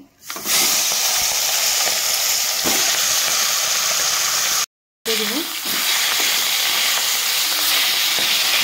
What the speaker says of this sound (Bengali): এখানে আমি হলুদ লবণ মাখিয়ে প্রথমে মাথাটাকে ভেজে নেব